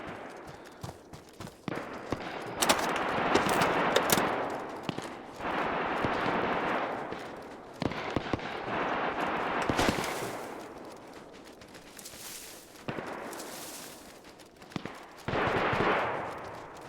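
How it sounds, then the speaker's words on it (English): Automatic weapon fire in a video game comes as rapid bursts of gunshots, loud and repeated in long stretches with brief pauses, with no talk over it. "the automatic weapons are so bad in this game"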